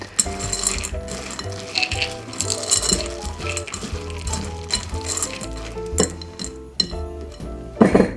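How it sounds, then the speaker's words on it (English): A spoon stirs melted chocolate in a bowl with soft scraping and light clinks against the sides, set against steady background music. "So after each increment, I'm gonna pull it out and I'm gonna give it a stir."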